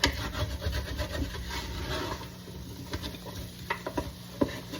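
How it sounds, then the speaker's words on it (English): A wooden spoon scraping and stirring peppers in a pot, rubbing along the bottom with rhythmic scrapes over a gentle sizzle, then a few sharper knocks and taps, close up with no talk. "I switched to a wooden spoon just because I want to get all that flavor off the bottom"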